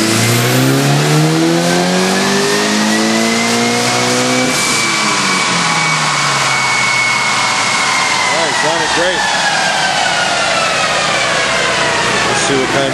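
A tuned Stage 1 Mitsubishi Evo IX on alcohol-water injection makes a third-gear pull, the engine revving hard and rising in pitch with turbo whine, a shift-like dip midway, then climbing again loud and close while someone talks.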